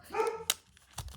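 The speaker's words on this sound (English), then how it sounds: "Sorry, that was my dog barking." A dog gives a couple of short, sharp barks close by inside a room, with a brief pause between them and no talking.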